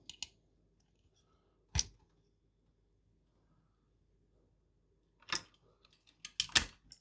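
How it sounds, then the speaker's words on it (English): Cables for VGA, audio, a PS2 keyboard and a NES controller are plugged into a PICO-56 computer kit, giving a few sharp, close clicks and plastic snaps separated by quiet pauses. "we'll turn this off and plug in the VGA audio, keyboard and Nest controller"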